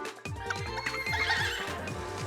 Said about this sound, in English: Let's see what the horse plant does.